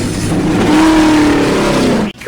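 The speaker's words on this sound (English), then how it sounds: "Lightning McQueen. Start your engines!" A cartoon race car, Lightning McQueen, revs loud and close in a sustained roaring engine note that rises and falls for about two seconds, then cuts off abruptly.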